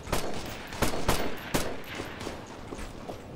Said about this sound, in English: I'm under fire. Stop shooting. I'm coming through. taking fire over here.